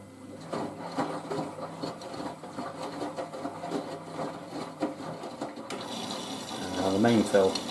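A Miele W562 Prestige Plus 6 washing machine runs its main water fill during a wash of a bathrobe, giving steady rushing and trickling water with mechanical whirring, close by, swelling louder toward the end.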